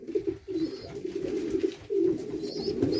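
Close, steady cooing from a loft of racing pigeons, with repeated low, throaty rolls and no talking.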